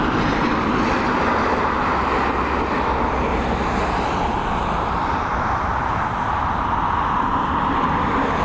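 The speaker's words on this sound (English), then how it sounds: "in the meantime we have this Embraer E190 on the way in. Coming in from London City" An Embraer E190 jet coming in to land at Dublin Airport after a flight from London City, a loud, steady engine roar that holds throughout with no voices.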